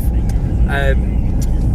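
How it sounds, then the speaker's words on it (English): A car pulls in close by outside a reptile show in Doncaster, its low engine rumble steady and near, with a brief voice heard over it. "Hold on, I've got a car pulling in front now."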